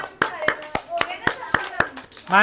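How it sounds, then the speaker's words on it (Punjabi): Several children clap in a loose, uneven burst of single claps close by, with young voices chattering between them; a louder voice rises at the end. "ਤਾੜੀਆਂ ਤਾੜੀਆਂ ਤਾੜੀਆਂ ਸਾਰੇ ਬੱਚੇ ਤਾੜੀਆਂ"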